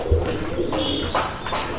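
Golla pigeons coo continuously at close range, a dense, steady murmur of overlapping calls with faint chirps.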